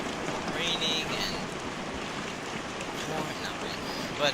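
Steady rain in the horror video game The Glass Staircase, a dense, even hiss of falling water that fills the whole stretch without breaks.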